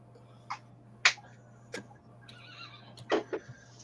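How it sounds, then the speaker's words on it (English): A horse in a video game neighs and whinnies in several short, bright bursts, with faint clicking between them over a steady low hum, fairly quiet and with no voice. "Do I hear a horse?"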